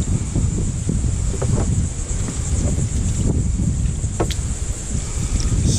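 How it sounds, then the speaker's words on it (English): Strong wind buffets the microphone in a continuous, heavy low roar on the coast, with gusts swelling and easing throughout and no voices. "Super windy out here all of a sudden."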